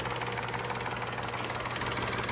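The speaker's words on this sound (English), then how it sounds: "Look at that sweet little engine." Small Vauxhall Corsa three-cylinder petrol engine with a freshly replaced cam belt idles steadily and evenly close by, a constant mechanical hum with no voices over it.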